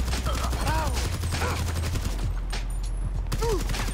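Gunfire in GTA Online during a nightclub cargo sourcing mission, dense bursts of shots over a steady engine-like drone, with a voice talking intermittently through it.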